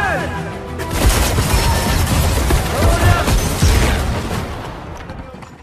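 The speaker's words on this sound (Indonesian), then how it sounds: "Gubernur Gagarin datang dengan tembakan peringatan untuk menghentikan kerusuhan" Warning gunshots ring out in a burst of rapid cracks and booms, a dense cluster of sharp reports that fades out toward the end.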